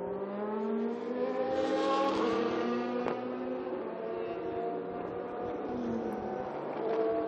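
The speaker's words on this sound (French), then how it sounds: "impressionnant de voir ces voitures aussi différentes et bien s'expliquer sur la piste" Race cars including Renault and Ford models circle the Paul Ricard circuit, engines wailing loudly and continuously with rising and falling revs as several cars pass close by, no talk.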